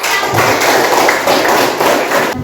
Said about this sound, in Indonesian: Kita berikan tepuk tangan buat kelompok 1.